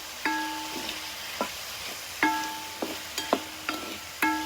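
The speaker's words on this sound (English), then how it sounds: "Going to add in a little kosher salt to help sweat the veggies. And give it a quick stir." Diced vegetables and jalapeno with kosher salt are stirred in a pan while cooking for West African jollof rice: a series of light, sharp spoon clinks and short scrapes, close and fairly quiet, with no talking.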